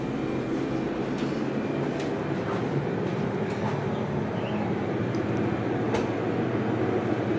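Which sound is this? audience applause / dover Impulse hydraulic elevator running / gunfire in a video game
dover Impulse hydraulic elevator running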